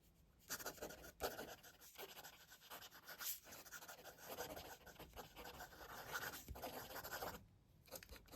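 An Aurora Optima fountain pen scratches rapidly across paper in quick, continuous strokes, faint and close, with short pauses between bursts of writing.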